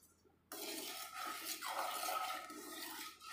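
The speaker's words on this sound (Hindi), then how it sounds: "थोड़ा डाल देंगे पानी।" Water is poured into a kadhai of sugar on a gas stove while making coconut-powder sweets, a steady splashing pour that starts abruptly and runs for about three seconds, close and fairly loud, with no talking.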